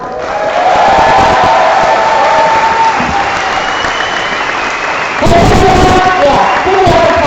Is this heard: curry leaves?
no